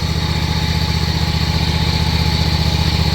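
A John Deere X520 lawn tractor engine runs at a steady idle, a continuous loud close rumble with an even buzzing pulse and no talk over it.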